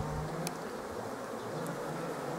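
Honeybees at a hive with a failing queen laying mostly drone brood, a dense steady buzz filling the air close by, with a couple of faint clicks and no speech.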